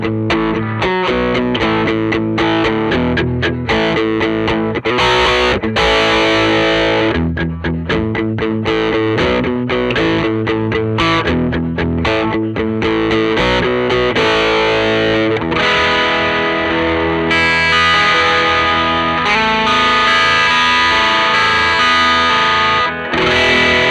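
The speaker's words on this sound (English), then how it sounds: "let's check out what a distorted tone might sound like with the same exact setup" An electric guitar plays through an amplifier with heavy distortion, thick sustained chords and riffs ringing out steadily for over twenty seconds with no talk, full and loud as if miked close to the speaker.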